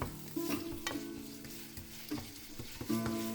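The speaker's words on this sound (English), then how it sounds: "now I'm just going to stir fry the mincemeat here" Minced beef stir-fried in a pan gives a steady sizzle, with the scrape and clack of a utensil stirring at irregular moments and no voices.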